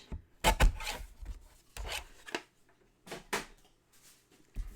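Paper being cut off at one inch for a black and white Christmas album, heard as soft, close scraping and snipping strokes in short irregular bursts with quiet gaps between them.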